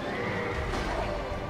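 A horse whinnies in Dark Souls 2, a loud, close neigh that carries through the whole short moment over a dense backdrop of game noise, with faint hoof clatter.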